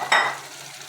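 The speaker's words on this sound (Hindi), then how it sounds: "फिर जो है वो हम इनको अच्छी तरीके से मज़ीद भूनेंगे" Chickpeas frying and being stirred in masala for Lahori chikar cholay, a single short scraping stir with a brief sizzle that fades quickly, close and fairly loud.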